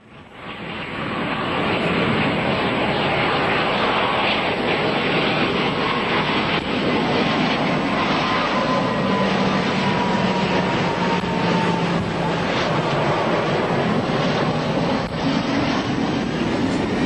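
A loud, sustained airplane engine roar that holds steady for the whole stretch as the plane makes a low flyby close overhead at an air show, heard from the crowd.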